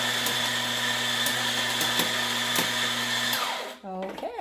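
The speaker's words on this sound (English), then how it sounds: "We're going to turn the bean grinder" A coffee bean grinder runs with a steady high-pitched electric whine and faint ticking, then cuts off near the end while a voice speaks briefly.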